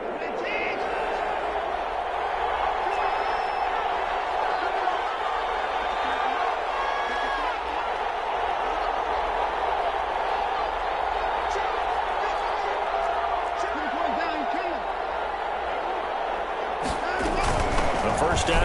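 A football stadium crowd roars and cheers after a first down, a dense, steady wash of fan noise under continuous play-by-play commentary, swelling briefly near the end.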